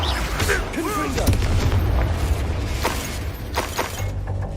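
Confringo fire spell from Hogwarts Legacy bursting in a dense barrage of booms and crackling impacts, loud and continuous over a heavy low rumble with game sound effects layered throughout.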